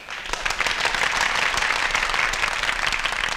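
An audience applauds at a Tamil stage event, giving dense, continuous clapping at a steady, fairly loud level from start to finish.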